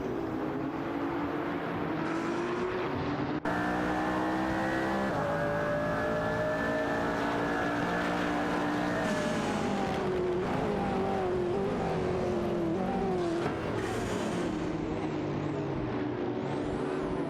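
Race cars in a racing video game, engines howling steadily at high revs with shifting pitch as cars run close together, loud and continuous with no talk.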